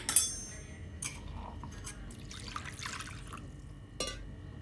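Quiet pouring and splashing of water into a pot of chicken bone curry, with a few faint clinks, close by and soft.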